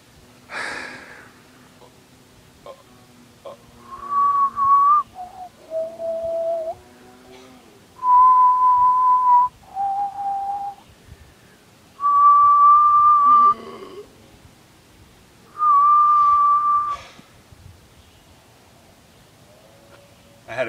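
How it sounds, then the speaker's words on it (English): A person whistles a slow Indian song, a sequence of sustained clear tones with pitch bends, separated by breaths and short pauses, close and fairly loud with no talk over it. "I will whistle a song that he taught me. It was an Indian song."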